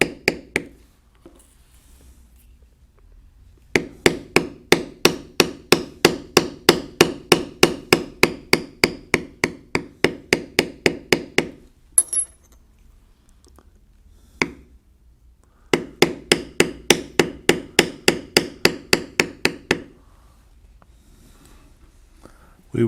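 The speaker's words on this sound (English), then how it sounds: "I'll form that lower lip with just the beveler." A mallet striking a B702 leather beveler while carving a buffalo head into leather, tapping in long steady runs of evenly spaced sharp knocks, close and crisp, with brief pauses between runs.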